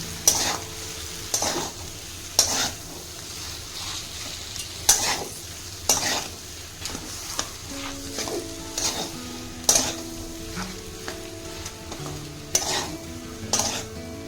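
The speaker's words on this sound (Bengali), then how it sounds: "আলুটা আমি নেড়ে নেব ভালো করে" Mashed potato mixture stirred in a pan for Bengali egg chops, with sharp repeated scrapes and knocks of a spoon against the pan at an irregular pace over a faint background hum.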